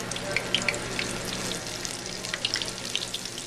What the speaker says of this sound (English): You drop one in and you want it to fry up crispy.